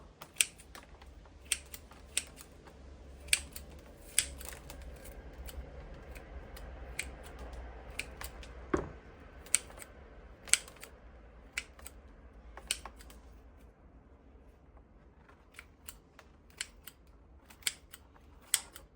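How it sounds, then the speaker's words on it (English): Pruning shears snip at the roots of a ficus benjamina bonsai, giving sharp, close clicks and cuts spaced irregularly over a quiet, steady background hum. "I'm just going to start by pruning the bottom back so that it's nice and flat."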